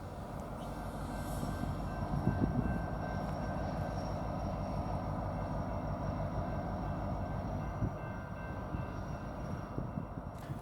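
A northbound empty BNSF coal train rolls along the Front Range subdivision at Cheyenne, Wyoming, its steady rumble and wheel noise filling the air continuously at moderate distance, with no talking.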